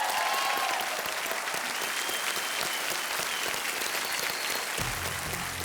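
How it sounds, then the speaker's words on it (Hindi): A game-show studio audience gives a dense, sustained round of applause to welcome a new batch of contestants, loud and even throughout and fading near the end as a low musical sting begins. "तालियों के साथ जोरदार उनका स्वागत किया जाए"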